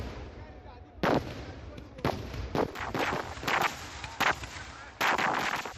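Fireworks at the Nenmara Vallangi Vela temple festival in Kerala boom in a string of sharp, loud blasts at irregular intervals, about six bursts over a few seconds, with a rumbling crowd-like wash between them.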